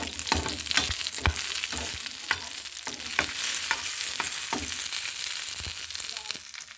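Cashews and raisins fry for payasam, a steady close sizzle of oil broken by repeated clicks and scrapes of a spoon stirring against the pan.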